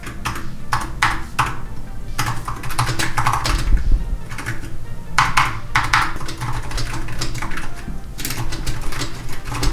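Keys clacking steadily on a Razer Huntsman Mini 60% keyboard, soft punchy keystrokes coming in quick bursts separated by brief pauses, close and clear with no voices.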